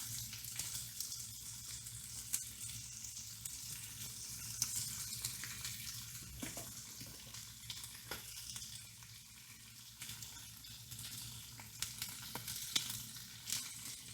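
Chicken sizzling in a pan, a steady, fairly quiet crackle and hiss running throughout with small pops here and there and no voices.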